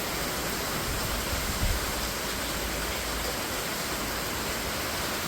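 A real tropical downpour roars in a constant, full-bodied wash of noise, near and loud, with a brief low thump partway through and nobody speaking.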